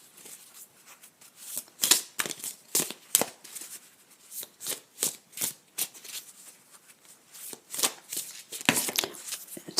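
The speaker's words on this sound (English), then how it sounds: "I'm going to pull one of these cards to finish off and to see where we are at." Tarot cards being shuffled and pulled, a steady series of crisp riffling and flicking bursts close by, repeating at a quick irregular rhythm throughout with no talking.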